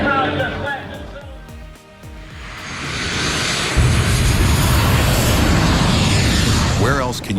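A 1,000-pound aerobatic muscle biplane with over 100 horsepower roars loudly as its engine revs up and holds a sustained powerful drone, with voices audible at the start.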